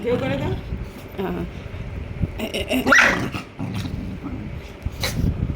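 A dog barks and growls in short bursts, mixed with whimpers, while a person talks nearby throughout.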